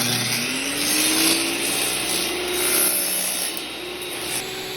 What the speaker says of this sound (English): the utility of the sled here, as it allows us to very quickly and very safely make those cuts in small pieces